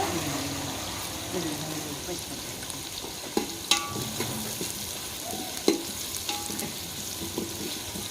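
Green chillies go into a pan of onions already frying, a close, continuous sizzle broken by sharp clatters and stirring knocks from a utensil, with a brief voice in the background.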